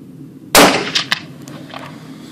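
A single sharp rifle shot cracks loudly at a 100-metre outdoor rifle range, followed by a brief ringing echo and faint metallic clanks as it fades.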